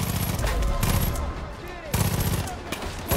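Rapid automatic gunfire from a weapon in Far Cry 5 rattles loud and close in two sustained bursts with a brief lull between them.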